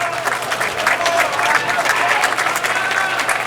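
Crowd applause rolls steadily at a 9-ball pool final, Shawn Putnam against Darren Appleton at the 2011 US Open, a dense continuous clatter of many hands with murmured voices mixed in throughout.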